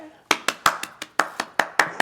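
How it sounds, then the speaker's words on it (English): Sharp hand claps land close and loud in a quick, fairly regular run of about nine, each one crisp with a brief decay. "Now, I give 2 claps"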